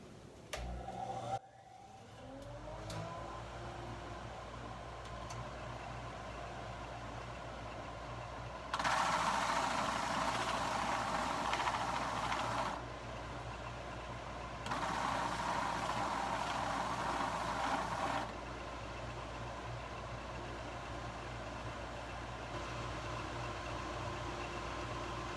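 A lathe hums steadily, close by. A spinning sander wheel makes two long rough hissing bursts as it sands a wooden bowl.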